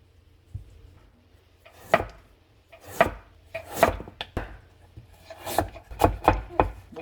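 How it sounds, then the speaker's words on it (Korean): A knife julienning radish against a wooden cutting board in irregular strikes, sparse at first and then quicker, close and fairly quiet. "나물을 가늘게 채 썰어 줍니다"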